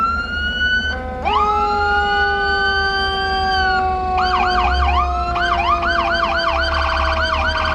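A loud fire truck siren wails close by at a street parade, rising and holding, then switching to a rapid yelp pattern over a low engine rumble.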